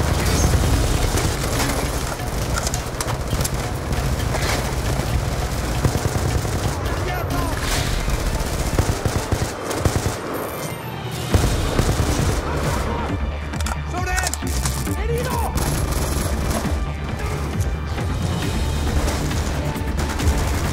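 Dense automatic gunfire and rifle bursts from Call of Duty: Black Ops 2, loud and nearly continuous with booms and shouted voices mixed in throughout.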